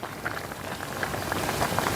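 Karamani biryani bubbles and simmers in a pressure cooker, a soft, steady patter of small pops and bursts heard up close and fairly quiet.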